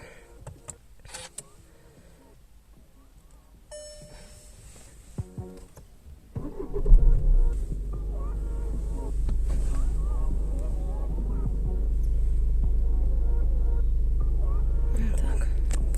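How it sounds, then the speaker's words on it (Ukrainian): A Volkswagen Passat B8 Comfortline engine starts: quiet cabin clicks and a whirring prime give way partway through to a cranking surge and a steady low idle rumble that settles and holds. "Спробуємо завести автомобіль."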